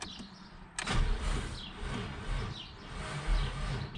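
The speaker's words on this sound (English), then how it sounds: "let's try if the starter motor gets engaged" Starter motor on a Ford Scorpio with the 2.9 V6 Cologne engine cranking slowly after a sharp engagement click, a steady laboured churn with a few uneven pulses and no start.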